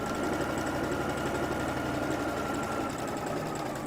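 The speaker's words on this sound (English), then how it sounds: "Okay, so I'm just sewing and I'm getting close here and I'm doing a walk and I'm heading back down here." A sewing machine runs steadily while stitching a shirt collar, a continuous close mechanical whir with a fast rhythmic needle chatter that holds for the whole stretch without pause.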